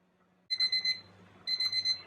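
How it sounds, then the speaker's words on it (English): A kitchen timer beeps during bagel baking in two quick bursts of rapid, high electronic chirps, close and clear against a quiet background. "when your timer goes off, I usually just go ahead and set it again"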